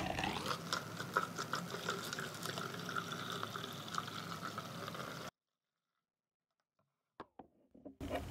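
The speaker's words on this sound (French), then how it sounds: "Je le remplis avec l'eau chaude de le robinet." Hot tap water pours steadily from a faucet into a bottle, a continuous splashing rush lasting about five seconds before cutting off, followed by a few faint clinks and handling noises.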